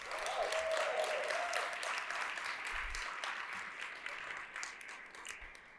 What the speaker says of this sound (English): Let's give all of them a round of applause too.